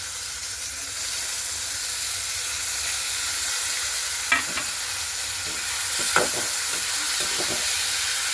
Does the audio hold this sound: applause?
no